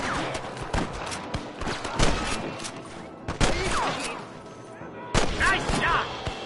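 Gunfire in the video game Red Dead Redemption, with several loud, sharp shots and short volleys spaced a second or two apart, and faint voices beneath.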